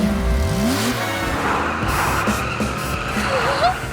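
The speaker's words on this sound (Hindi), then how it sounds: "किटी बनकर ये सुपर कार चलाने में तो मजा ही आ गया।" A cartoon super car drives off with a rising engine whine and tire squeal at the start, then a steady rushing drive with a few higher squeaks, loud and close.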